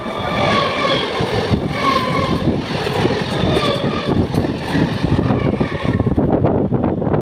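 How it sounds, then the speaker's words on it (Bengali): A Tarakeswar local train pulling out of Howrah Junction, a loud continuous rumble and roar with wind buffeting the microphone and faint whining tones, steady throughout and without talk. "এই হাওড়া জংশন থেকে আমাদের ট্রেন এখন ছাড়লো তারকেশ্বরের পথে"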